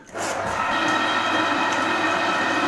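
A SS Brewtech CIP spray ball pump runs with a loud, steady mechanical drone, broad rumble and hiss, continuous after a brief quieter start.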